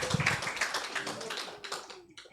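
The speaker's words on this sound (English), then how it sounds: "Please, let's applaud them." Audience in a forum hall applauding new team members, a dense patter of hand claps fading over about two seconds, fairly faint and with some voices underneath.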